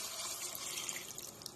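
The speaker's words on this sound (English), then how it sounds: "I'm going to go ahead and add the water. So, hot boiling water." Hot boiling water is poured into a cooking pot, making a soft, steady splashing trickle that stays quiet throughout the short moment.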